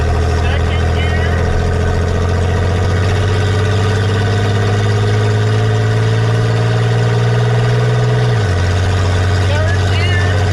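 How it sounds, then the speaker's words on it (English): Lifted Corvette's engine drones loudly and steadily, pitch climbing gradually while driving before dropping sharply at a gear change, with a person talking throughout. "First gear, second gear."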